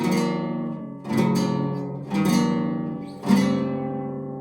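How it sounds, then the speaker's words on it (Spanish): A guitar with slack, detuned strings is strummed four times at a slow, uneven pace, each chord ringing out and decaying before the next, close and fairly quiet with no voices. "una guitarra con cuerdas sin tensión, que significa no estar afinada, suena algo así"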